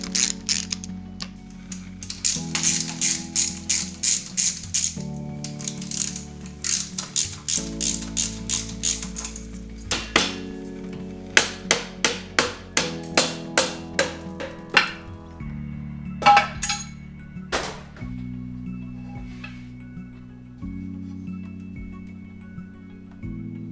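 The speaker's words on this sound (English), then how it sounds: "we're going to remove the end casing" Metallic clinks and ratcheting as the end casing comes off a 1973 Porsche 915 gearbox, a run of close, rapid tool clicks and taps in bursts with pauses between.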